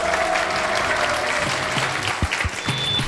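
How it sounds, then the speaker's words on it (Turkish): Applause from a comedy show audience greeting a comedian, a loud, dense burst of clapping that stays steady and then grows slightly choppier near the end. "büyük alkış rica ediyorum onun için"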